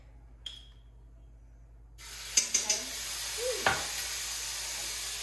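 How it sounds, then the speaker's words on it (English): Minced garlic and crushed red pepper begin sizzling in a hot pan of cooking oil for collard greens, a steady loud crackling hiss that bursts in after a quiet start, with a few light clinks from stirring. "I'm gonna add just a little bit of minced garlic"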